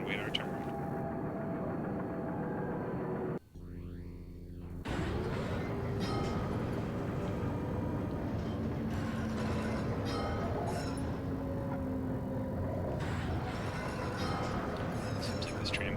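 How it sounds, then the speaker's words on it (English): A tram rolls through a city street in the video game else Heart.Break(), giving a steady rumble of rails and wagon noise that stays loud throughout, with a short dip partway. "Let's just sit down and wait our turn."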